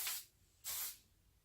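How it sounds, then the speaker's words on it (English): Two short bursts of hairspray from an aerosol can hiss onto styled curls, each lasting about a quarter second with a pause between, close and fairly quiet. "And give it a little bit of a spray."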